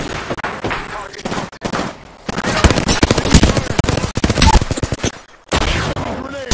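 Rapid automatic gunfire in the battle royale game Apex Legends, loud close bursts of shots with brief pauses between volleys, under occasional game voice lines.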